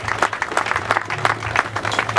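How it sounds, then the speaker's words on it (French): Funeral attendees applauding together in a steady, dense burst of clapping that fills the whole moment, a hum running beneath it. "je nous prie, chère assistance, de très fort acclamer sa mémoire"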